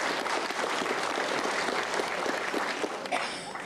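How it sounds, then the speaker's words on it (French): A concert audience applauds steadily, a dense wash of clapping that holds throughout and thins slightly near the end. "Vous pouvez l'applaudir."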